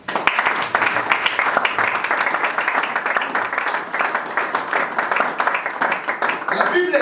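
A church congregation applauds and acclaims the Lord, a steady, dense wash of clapping and cheering voices that holds fairly loud for the whole stretch.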